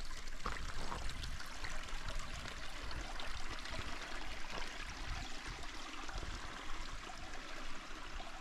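Steady broadband rushing of flowing water, continuous and fairly close, with no voices.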